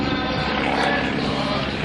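A vintage Stearman PT-17 biplane's engine roars steadily and loudly as it pushes over onto its back during an aerobatic routine at the 2010 Abbotsford Airshow.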